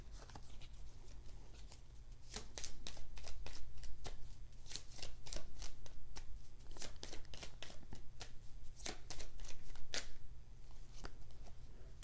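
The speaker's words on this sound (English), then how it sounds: "I'm going to pull one more card for that." A deck of oracle cards is shuffled by hand, producing repeated riffling bursts and flicks at close range with no talk.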